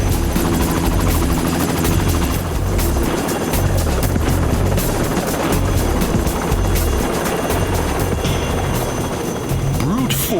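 A helicopter hovers close overhead while concrete is unloaded at a Hong Kong cable car construction site. The rotor thrum pounds loudly and continuously, and a voice talks over it.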